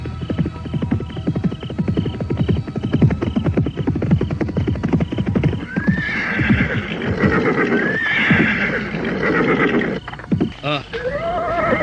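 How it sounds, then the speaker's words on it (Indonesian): Horses galloping away, a white horse following behind, with rapid pounding hoofbeats that soften and recede, then loud whinnies and neighs over a rumbling, busy background. "sesaat kemudian kuda itu telah berderap menjauh dengan seekor kuda putih lain yang mengikuti di belakangnya"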